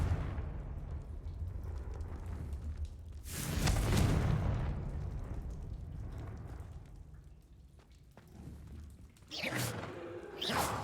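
A Confringo fire spell blasts in Hogwarts Legacy, a loud explosive burst with rumbling roar near four seconds, followed by quieter crackling and a second sharp blast near the end.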